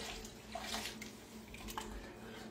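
Plain water poured into a pot for goulash on a stovetop, a steady splashing stream running throughout, fairly quiet and close with no talk over it.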